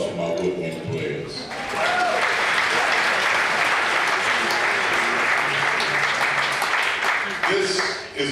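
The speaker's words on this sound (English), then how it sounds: "another round of applause for my woodwind players" Audience applause for woodwind players at a jazz band performance at the Triple Door, sustained and full for several seconds, with a few voices talking at the start and end.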